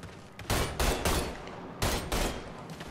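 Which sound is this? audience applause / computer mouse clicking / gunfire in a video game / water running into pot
gunfire in a video game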